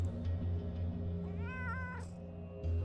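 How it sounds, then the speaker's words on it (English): A cat meows once in a game, a short rising-falling cry heard clearly over a steady low background hum. No one speaks. "There's a kitty cat here as well."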